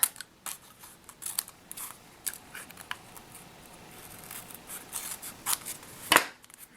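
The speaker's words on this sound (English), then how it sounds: "And we're just going to cut off the edge." Scissors trim the edge off a small paper and card mini notebook purse piece in a craft setting, giving sparse, quiet snips and crisp paper clicks spread irregularly over a soft background.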